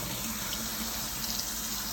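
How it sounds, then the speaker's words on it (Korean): Cold tap water runs in a steady, even stream to rinse squid just blanched in boiling water with cooking wine and salt, a close, continuous splashing flow with no voices. "바로 찬물 샤워 때려주세요"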